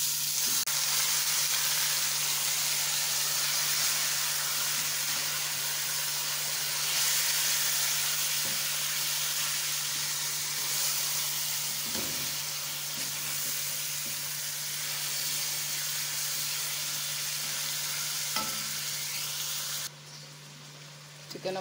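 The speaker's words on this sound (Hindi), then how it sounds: "चिकन हमारा फ्राई हो गया" Chicken pieces frying in a pan with dried red chillies for sella chicken biryani give a steady, close sizzle that runs on without pause, with a few soft stirring knocks and a slight change in tone near the end.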